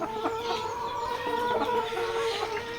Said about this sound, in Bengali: এখানে হচ্ছে মুরগি ব্রিডিং করা এখানে রয়েছে লেয়ার মুরগি